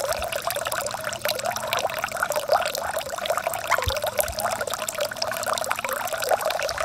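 Water pours steadily from a pipe with a ball valve into a self-cleaning duck pond, a loud continuous splashing trickle heard close up, with no talking.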